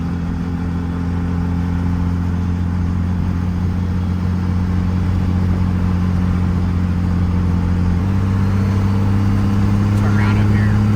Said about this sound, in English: I can really feel a difference in the turbo spool of this new cam